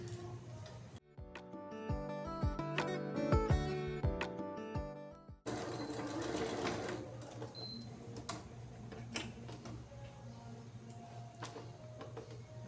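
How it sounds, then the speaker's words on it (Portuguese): A sewing machine stitches fabric for a travel shampoo-holder bag. Harmonic background music comes first, then a steady mechanical whir with ticking texture runs near and continuous for most of the clip, with no talk. "vou passar então um pé de máquina desse lado"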